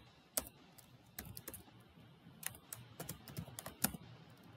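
Keys clack on a computer keyboard in short, uneven bursts as a line is added to a Dockerfile for an Apache container on Ubuntu, close and fairly quiet with a few sharper strokes.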